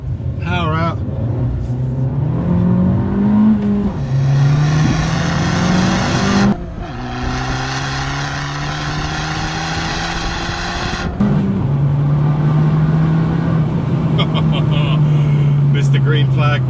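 A 2020 Abarth 695 70th Anniversario brakes and accelerates on a tight, twisty track: loud engine revs climb through gears, drop sharply under braking, then surge again, with a steady buzzy exhaust note close by.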